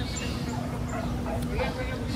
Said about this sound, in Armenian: Սրանք հնդկահավ են